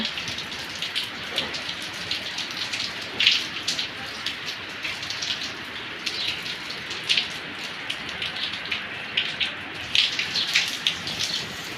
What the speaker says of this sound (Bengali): পানি পড়তেছে কত সুন্দর বৃষ্টির পানি